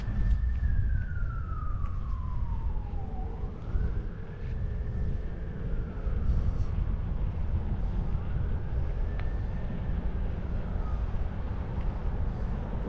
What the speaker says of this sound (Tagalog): Pero kailangan tumigil ka pagka may ambulansya.